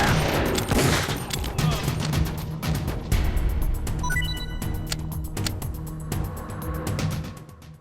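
Dense, sustained gunfire crackles loud and close throughout a battle in Metal Gear Solid: The Twin Snakes, a rapid fusillade of overlapping shots with scattered sharper electronic pings and game effects.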